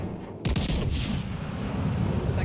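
World of Warships Legends battleship main guns fire a loud, sudden salvo that booms and rolls out into a long rumbling tail, rising from a low ambient hum.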